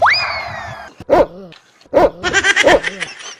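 A sharp whistling tone sweeps up and fades, then a dog barks nearby in short bursts, single barks followed by a quick run of several, as the dog runs off.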